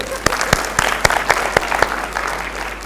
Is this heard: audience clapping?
yes